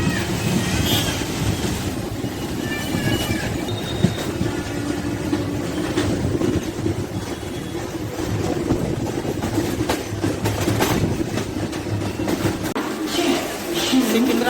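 A MEMU train on the Secunderabad to Chittapur run pulls into Lingampally station, a steady onboard rumble with rattling that drops away abruptly near the end as it slows.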